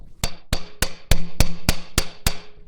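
Eight sharp metallic hammer strikes drive a tapered wheel bearing race into a 1947-59 Chevy/GMC truck hub at a steady rhythm, loud and close, the later blows ringing differently as it bottoms out.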